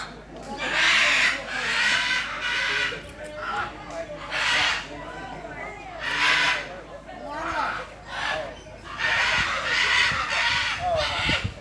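Chickens cluck and a rooster crows in repeated loud bursts at an iguana farm, with several birds calling close by over a steady background.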